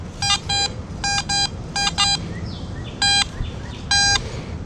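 A metal detector swept over a buried target in sandy soil gives short, sharp paired electronic beeps, repeated about five times in an uneven rhythm against a steady outdoor background hiss.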